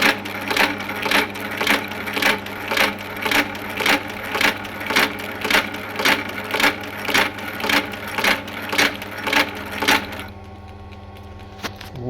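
A sewing machine set to a shortened stitch length punches through two layers of leather in a steady, even run of about twenty loud, close thumps over ten seconds, then stops to a low motor hum.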